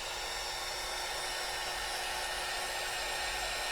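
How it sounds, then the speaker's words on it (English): A heat gun blasts steady, loud broadband air noise without a break while drying a Stampin' Up watercolor notecard, with no talking over it. "Alright, so I'm going to do my heat gun,"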